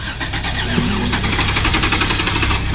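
An off-road vehicle's engine is cranked on the starter to inch the vehicle up a steep trail hill. Rapid, even churning pulses run steadily throughout, loud and close, with no one talking.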